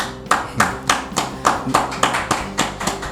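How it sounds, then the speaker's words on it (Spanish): Hands clap in a steady, rhythmic beat, about three claps a second, over music in the background. "Señores, dame un aplauso a Luis Abinader."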